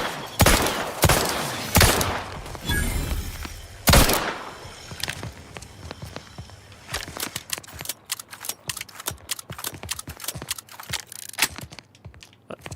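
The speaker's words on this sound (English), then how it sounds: "Stop walking in front of a man firing a gun!" Gunfire in The Outer Worlds 2 during a brawl: a few loud, heavy blasts early on, then a long run of rapid, sharp shots crackling in quick succession, mixed with combat noise and fading near the end.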